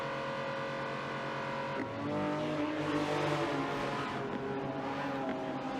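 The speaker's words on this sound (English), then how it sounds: "Hooper as he comes in the first corner now." An 1980s race car being drifted through a corner of Suzuka circuit in a racing video game gives a loud, steady, harmonic engine drone that swells midway, with faint tire noise beneath and no talk.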